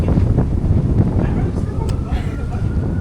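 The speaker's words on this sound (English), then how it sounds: "It's so windy." Strong wind buffets a microphone outdoors by a riverside on a blustery day, a loud, continuous low rumble of gusts with faint voices mixed in.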